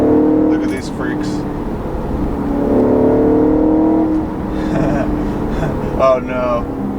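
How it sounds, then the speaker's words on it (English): A 2013 Audi RS5 downshifting, its engine blipping and rising in pitch through several quick gear changes, loud and close from inside the car with someone talking over it. "Those downshifts are absolutely supercar-like."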